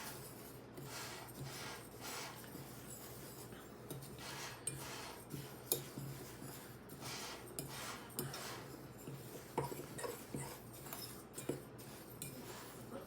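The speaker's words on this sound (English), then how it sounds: "So we'll just take our fork and we'll mix that." Fork stirring flax seeds, cassava flour, baking powder and salt in a bowl, a steady scraping and clinking of metal against the bowl with small irregular taps, close and moderately quiet, no talking.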